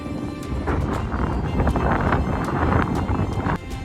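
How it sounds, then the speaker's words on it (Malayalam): Gusty wind rumbles and buffets close to the microphone, a continuous low roar with small knocks scattered through it, on a hilltop at Vavumala Siva temple near Vadakkencheri, Palakkad. "ഇവിടെ നല്ല കാറ്റുണ്ട് കേട്ടോ"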